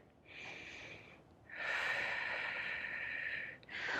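Slow, deep breathing during a standing Pilates mobility flow, soft airy inhales and exhales in long sustained waves, close and quiet, with no talking.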